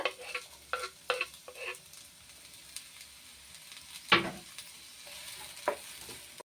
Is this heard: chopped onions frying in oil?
yes